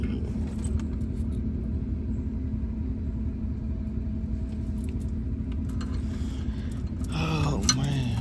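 A truck engine idles nearby in a steady low rumble that runs unbroken throughout, while people talk faintly and a voice rises briefly near the end.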